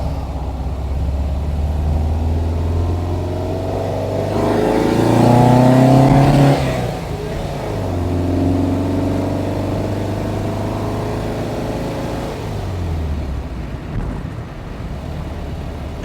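A 1971 Volkswagen Type 3 Squareback air-cooled engine idles steadily and close up, its pitch rising briefly in a short rev before settling back to an even idle.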